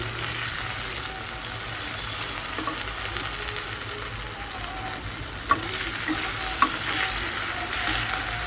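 A fish head frying in hot oil with black cumin seeds, a dense, even, close-up sizzle that hisses steadily throughout, with a couple of brief sharp pops near the end.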